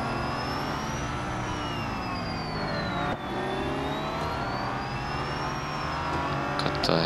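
Aston Martin Valkyrie race car engine in a racing video game, a high whining rev that rises and falls in long smooth sweeps, steady and continuous with a brief dip midway.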